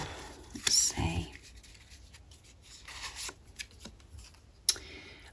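A tarot card deck is shuffled in riffling bursts near the start, followed by quieter handling and flicking of cards, with occasional soft talk.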